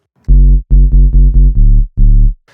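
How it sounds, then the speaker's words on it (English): A deep, buzzy square-wave synth sub bass plays a run of short, punchy low notes, six in a row with brief gaps, then one last note after a pause. "Next, let's make a sub bass sound."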